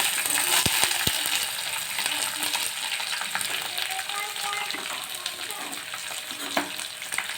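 Onions and green chilies hit hot oil with curry leaves in a pan, making a loud, close, steady sizzle with occasional sharp clinks and stirring scrapes.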